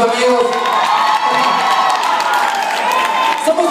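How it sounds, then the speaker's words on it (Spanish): A concert crowd in Orizaba cheers and applauds for the bands, a steady wash of clapping, whoops and shouts that holds without a break. "Un aplauso a las bandas que tocaron antes que nosotros"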